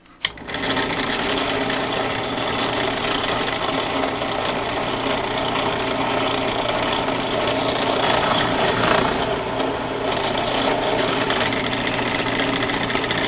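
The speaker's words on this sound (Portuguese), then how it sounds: "Então vai ter um pouco de barulho, eu vou mostrar aqui agora como é que eu vou furar e fixar ela aqui" A small drill boring a hole in a homemade printed circuit board, a loud steady high-pitched whirring buzz that holds without pause throughout, close up and alone.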